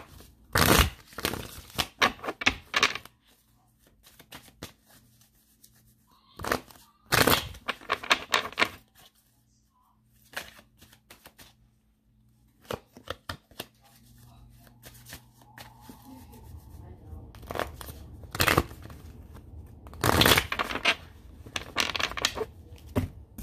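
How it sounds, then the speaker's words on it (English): Tarot cards shuffled by hand in bursts of crisp riffling and slapping, with quiet pauses between rounds, close and clear with no talking. "Let me shuffle these cards up some."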